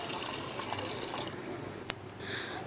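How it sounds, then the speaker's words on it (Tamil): Water left from soaking lentils is poured into a pan for a lentil-dumpling curry, making a steady, close splashing stream with a small clink near the end and no talking. "பாருங்கள், அந்த தண்ணி தான் நான் சேர்க்குறேன்."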